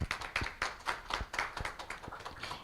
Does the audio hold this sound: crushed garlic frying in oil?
no